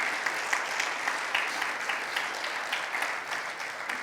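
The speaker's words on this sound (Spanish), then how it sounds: "Dale un fuerte aplauso a Él." Congregation at a church service applauding, a dense continuous patter of many hands clapping at moderate distance, steady for several seconds and tapering slightly toward the end.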